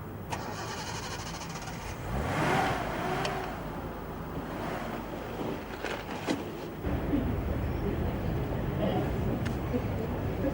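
Car engine cranking and catching at about two seconds, then running at a steady low rumble with a second surge near seven seconds, heard at a moderate distance under a busy outdoor background with people talking.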